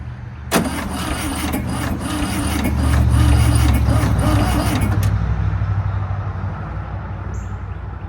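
A rusty 1971 Volkswagen Super Beetle engine is started: the starter cranks with a rhythmic whir for several seconds, then goes quiet while a loud low engine rumble drones on close by.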